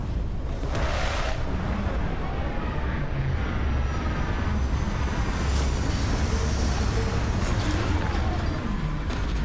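A spaceship landing in Starfield, a loud continuous engine roar with rumbling thrust and a brief whoosh near the start, sustained throughout without pause.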